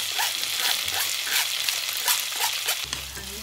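Onions frying in a pan while being stirred, a steady broadband sizzle with soft scraping stirs throughout, fairly close, with a low hum joining near the end.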